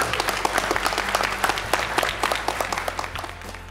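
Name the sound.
audience applause for youth panel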